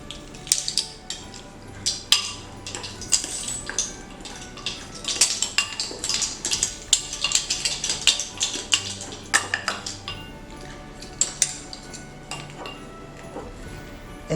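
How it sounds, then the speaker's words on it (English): A spoon stirs ground spices, clove among them, together in a bowl for a homemade pumpkin pie spice blend, making repeated close clinks and light scrapes against the bowl with no talking. "And then we're going to stir that up."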